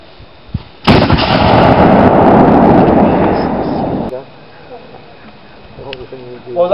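A loud artillery gun blast at Fort Frederick, a sharp report followed by a broad roaring rumble lasting about three seconds, then fading as voices and cheering rise afterward.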